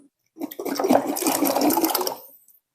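Tap water runs steadily over garlic being washed for pickling, a close splashing gush that starts abruptly, holds for about two seconds, then cuts off.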